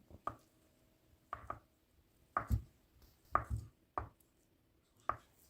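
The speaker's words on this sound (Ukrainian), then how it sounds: "нарізаю на невеликі довільні кубики" Six knife chops through boiled vegetables on a cutting board, cutting them into cubes, spaced about a second apart, close and distinct with quiet pauses between.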